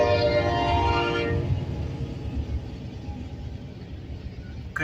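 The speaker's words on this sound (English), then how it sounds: "Couldn't tell what the lead locomotive was. It's either a Dash 9 or an AC-44 C6M." A freight train led by a Dash 9 or AC-44 C6M locomotive rolls past a crossing at Rock Glen, starting with a loud tonal horn-like blast that fades into a steady, close rumble and clatter of wagons.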